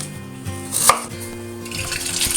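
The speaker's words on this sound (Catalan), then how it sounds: "i les tallarem per fer-les fregides." A knife chops potatoes for frying in a home kitchen, with steady close cutting strokes on a board and a sharper knock near the middle, no voices present.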